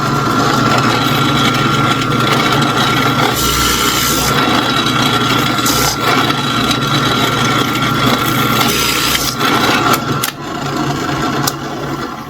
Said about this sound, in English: because I flipped it and drilled from one side and drilled from the other side, you get a real nice clean hole on both sides